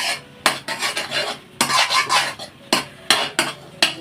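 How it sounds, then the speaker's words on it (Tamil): A spoon scrapes and stirs thickening rava and milk palkova in a pan, with repeated raspy strokes in uneven bursts and a sharp scrape starting each burst, close by and alone. "அப்படியே விடாமல் கிண்டிகிட்டே இருங்க, கெட்டி குடிக்கும்."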